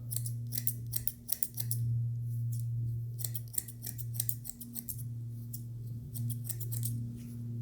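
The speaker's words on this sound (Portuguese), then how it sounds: "Dá só uma tesourada na marcação com a tesoura dentada." Thinning scissors with toothed blades cut hair during a taper fade, producing sharp metallic snips in quick clusters and pauses, close up over a steady low electrical hum.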